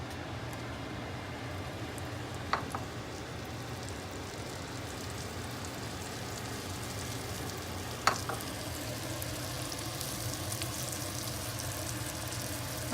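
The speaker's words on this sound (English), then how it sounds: "And we're going to fry them." Flour-dredged morel mushrooms fry in hot fat with a steady, even sizzle throughout, broken by two sharp clicks, and no one speaks.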